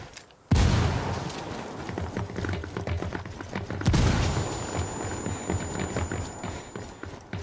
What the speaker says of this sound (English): Frag out. Frag out.